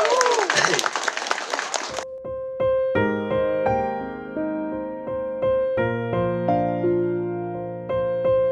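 Audience applause at a live Vietnamese pop concert: a dense burst of clapping for about two seconds that stops as the band starts a song.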